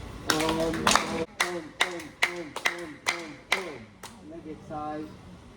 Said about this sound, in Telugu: ఎక్కడైతే శబ్దం వస్తుందో అక్కడ చూస్తూ క్లాప్ చాంటింగ్ చేయాలి